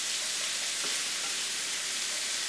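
Bell peppers sizzle in a hot pan with a dense, steady hiss of frying, close up and continuous with no talking.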